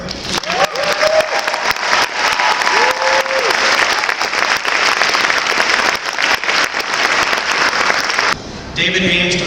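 Banquet audience applauds an honoree named Carol, steady loud clapping from a full room that carries on for several seconds, then cuts off as music or another sound takes over near the end.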